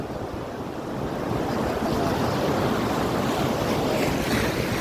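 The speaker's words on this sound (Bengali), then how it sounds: "জল আসছে, ও যাচ্ছে, আবার দূরে দূরে চলে যাচ্ছে।" Sea waves wash onto the sand at Barrister Colony beach in Old Digha, a continuous loud rushing surf that builds slightly after the first second, with no speech.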